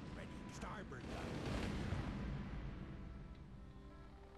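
Starboard cannon of a sailing ship in Sea Dogs firing on a coastal fort: a rumbling, booming roar that swells near the middle and then fades away. Low-level talk sits underneath.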